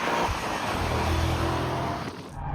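A 1,000-plus-horsepower electric super sedan driven hard and drifted, a loud, steady rush of tyre and road roar with a rising whine that fades near the end, no engine note.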